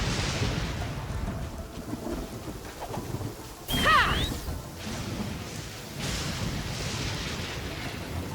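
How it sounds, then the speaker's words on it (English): Rain hisses steadily in the video game Genshin Impact while thunder rolls, with one louder crack near the middle and softer rumbles around it. "Rain. My hair and feathers are gonna get soaked."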